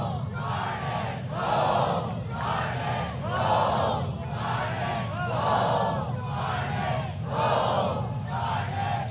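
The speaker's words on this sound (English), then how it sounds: "Seminole crowd trying to get fire up their team." Florida State Seminole fans chant in a rhythmic, repeating war cry at a 2023 ACC women's soccer match against Pitt, loud pulses rising every couple of seconds over a constant crowd roar.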